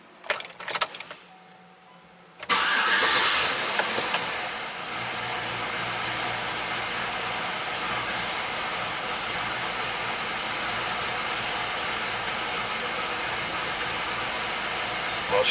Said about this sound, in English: Let's see if the truck starts.